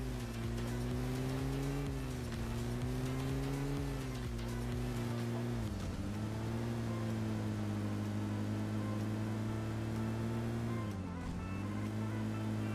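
A car drives in PUBG Mobile near Rozhok, a steady engine drone that shifts in pitch as it moves, heard alone at low level.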